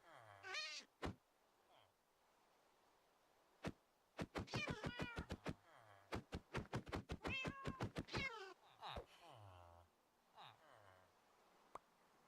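A cat meows repeatedly in a short series of close, clear cries, with a few soft knocks and background sounds between them and no talking.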